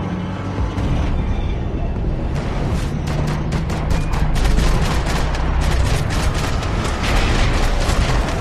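Rapid gunfire bursts from the video game Max Payne 3, loud and dense throughout with booming shots and mechanical clatter, while players' voices occasionally cut in over the action.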